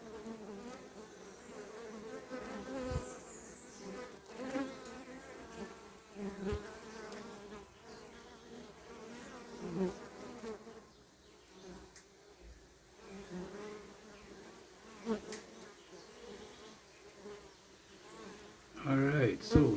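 Honey bees buzzing in a dense, continuous drone at the hive entrance as foragers bring in pollen and nectar, close and steady with fluctuating intensity.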